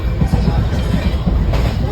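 A moving train rumbles deep and loud from inside, with a steady rhythmic clatter of wheels on track.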